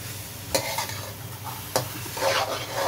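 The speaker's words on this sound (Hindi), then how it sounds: "अब इसको हम मज़ीद मिक्स करेंगे" Chicken pasta ingredients mixed in a bowl or pan after a tablespoon of vinegar goes in, with steady scraping and stirring, two sharp utensil knocks, and a brief wet rustle near the end, close and moderately loud.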